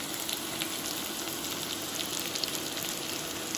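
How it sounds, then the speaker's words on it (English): Onions sizzle in hot extra virgin olive oil, a steady close crackling hiss with scattered pops running evenly throughout, no voices. "As soon as our oil is hot, and it is now, we'll put the onions in."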